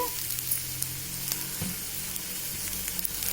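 Asafoetida and turmeric fry in oil in a pan during the making of a curd pachadi. A dense, steady sizzle carries faint clicks of a spoon turning the mixture, close up, with no one talking.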